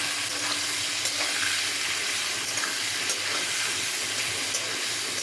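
A vegetarian dish fries in a pan with salt and turmeric, producing a continuous close sizzle and hiss with occasional stirring clicks and pops, no voices.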